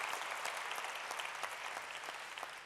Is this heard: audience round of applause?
yes